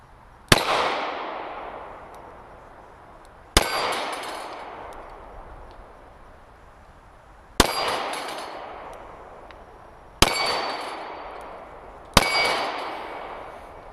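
Five sharp gunshots from a Ruger LCR revolver chambered in .38, fired at an outdoor range, each a loud, close crack with a ringing tail, spaced roughly three seconds apart with no talking.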